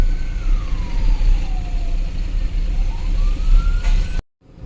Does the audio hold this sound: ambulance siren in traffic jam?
yes